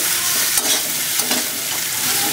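Loud, close, continuous sizzling as a fish head fries in a wok with cashews and raisins, with occasional stirring scrapes over the steady hiss.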